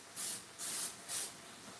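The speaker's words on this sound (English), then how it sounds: "I'm going to spray a layer of Pam olive oil." Three short, even bursts of Pam olive oil cooking spray hissing onto a flat pan, close and fairly soft, with no talk.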